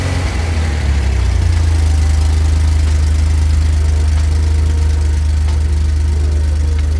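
Alpine car engine idling steadily on a cold day after a throttle blip, a loud, low, even rumble close to the microphone with a slight surge at the start and no voices.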